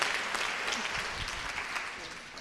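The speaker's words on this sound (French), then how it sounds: "J'aimerais bien l'applaudir encore une deuxième fois." A conference audience on stroke applauds a presenter, producing a steady, dense wash of clapping that continues at an even level for a couple of seconds.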